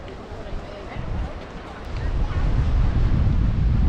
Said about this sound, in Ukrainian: Класно так, але вітряно.